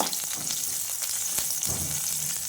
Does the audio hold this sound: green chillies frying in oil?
yes